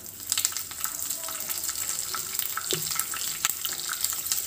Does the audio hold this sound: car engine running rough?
no